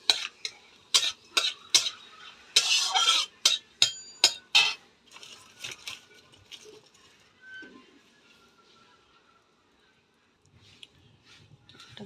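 Cumin seeds and a dried red chili fry in hot oil while a utensil stirs the pan, giving a run of sharp clicks and scrapes in the first half, then quieter occasional taps.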